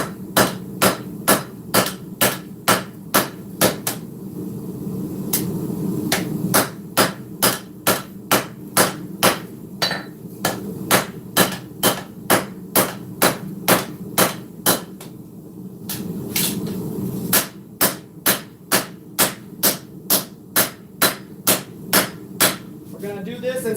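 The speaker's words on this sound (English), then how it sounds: "So now we're going to be forging from this back end" A hammer forges a steel sword blade, sharp ringing strikes falling in fast rhythmic bursts with short pauses, loud and close over a low background rumble.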